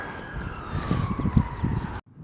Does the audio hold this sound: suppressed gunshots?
no